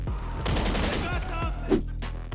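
Heavy Rifle gunfire in the video game GTA V Online, a dense burst of rapid overlapping shots followed by a few more cracks, loud and close, over steady background game sound.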